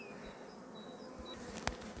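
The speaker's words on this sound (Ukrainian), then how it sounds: "Бджолки несуть пилок, активно, просто активно несуть." Honeybees buzzing near a hive as they actively carry pollen in early spring, a faint steady hum with brief higher passes of individual bees and one sharp click.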